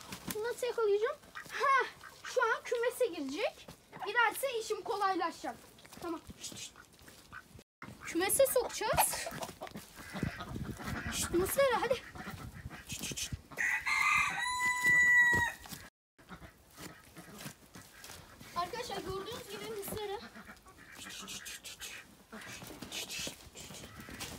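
A rooster crows amid clucking hens near a new backyard coop, the calls rising over steady background noise while a person talks through much of the scene.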